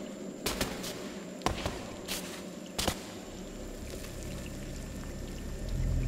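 Water in the video game Scanner Sombre: a quiet watery ambience broken by several sharp splashy pours and drips, a few distinct bursts in the first half, then a low steady wash swelling at the end.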